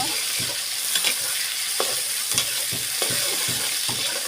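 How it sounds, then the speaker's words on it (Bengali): Prawns frying in hot oil in a pan give a continuous close sizzle, broken by regular light scraping and clinking strokes of a spatula, with no talking. "বন্ধুরা, চিংড়ি মাছ আমি লাল লাল করে ভেজে নেব।"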